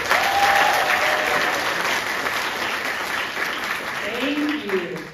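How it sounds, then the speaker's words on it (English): An audience at a sixth-grade school variety show applauds, a dense, fairly loud wash of clapping that slowly thins, with faint voices near the end. "Can we give him a round of applause?"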